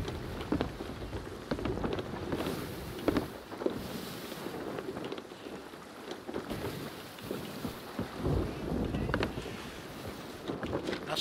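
Heavy storm rain lashes a ship at sea in Sea of Thieves, a steady wash of downpour and rumbling wind noise that fills the whole stretch, with no talk over it.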